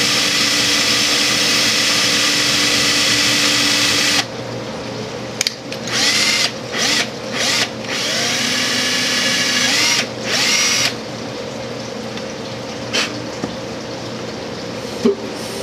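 A small drill bit bores out a jet on a Motorcraft two-barrel carburetor, the motor whining steadily for several seconds and then broken into short on-off bursts with brief pauses, loud and close with no talking.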